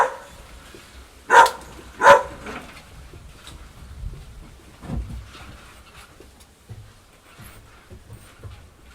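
A puppy gives two sharp, fairly loud barks close by, followed by fainter scattered rustles and small sounds in a quiet room.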